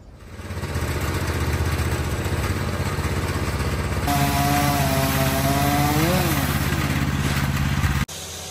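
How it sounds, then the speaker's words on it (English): A powered saw trimming tree branches above a wall from a cherry picker, a loud steady engine drone that rises in pitch and strains midway as it cuts, then cuts off abruptly near the end. "Taking the cherry picker over here just to trim some branches above the wall."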